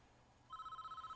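A telephone starts ringing partway through in the Prison Architect video game, a steady electronic trill pulsing rapidly, quiet and thin over faint background hiss.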